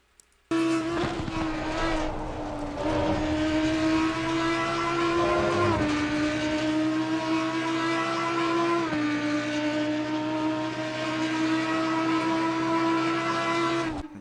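A roaring Audi EVO2 race car engine in Assetto Corsa Competizione at Watkins Glen holds a loud, steady, high-revving tone, dipping briefly around gear changes before climbing again, with no talking.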